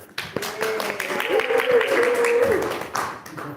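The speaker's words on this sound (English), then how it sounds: "continue those applause for Brock." A church audience claps and applauds for several seconds during a live service, steady clapping running under a voice with a few sharper claps standing out.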